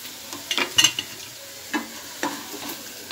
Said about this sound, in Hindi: आलू को हमने 5 मिनट के लिए फ्राई होने के लिए रख रहे हैं